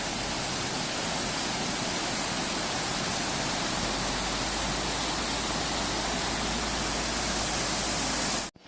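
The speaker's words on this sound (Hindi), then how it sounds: "ये ऊपर से पानी आ रहा है और मैं चुप होता हूँ और आप इसकी आवाज़ सुनो।" Steady, dense rush of water falling from above at Gaumukh in Lower Mustang, Nepal, loud and continuous like a waterfall, with no voices, cutting off abruptly at the end.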